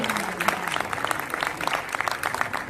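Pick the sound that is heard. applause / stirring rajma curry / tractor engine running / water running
applause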